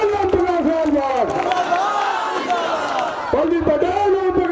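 A rally crowd in Ajgara cheers and shouts to welcome Pallavi Patel, a steady swell of voices and whoops with a raised voice cutting through over the top.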